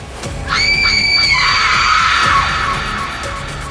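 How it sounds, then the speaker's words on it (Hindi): A woman screams in a horror audio drama, a loud sustained shriek starting after a brief pause and holding for about two seconds before trailing into a rumbling, noisy background. "सान्विका अपने कान पर हाथ रखती है और चिल्लाने लगती है।"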